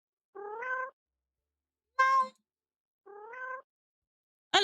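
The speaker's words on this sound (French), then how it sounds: "Alors, le chat, le chat." A cat meows three separate times, each a clear, close, moderately loud call with short silences between, and a fourth meow just begins at the end.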